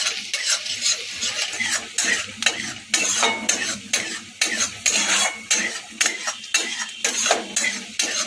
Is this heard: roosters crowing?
no